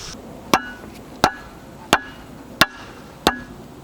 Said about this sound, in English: We're going to have to hammer this down.